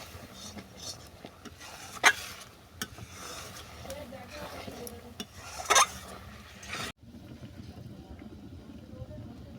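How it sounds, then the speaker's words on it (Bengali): A spoon scrapes and clinks against a pan as fried spices are stirred into jujube pickle, with soft, irregular scraping strokes and a couple of sharper metallic knocks at close range. "এটাকে ভালো করে নেড়ে ছেড়ে আমি নামিয়ে নেবো"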